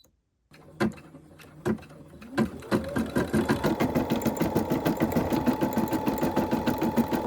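An embroidery machine stitching a name-tag design starts up with a few separate thumps, then settles into fast, steady mechanical stitching that runs on loudly and evenly.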